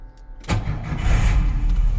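A car engine cranks and catches with a battery charger still connected, a sudden loud start followed by a rough, rumbling idle close by.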